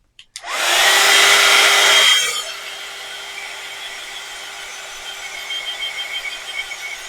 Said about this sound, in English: let's give it a quick blast just to dry that ink so I can handle it.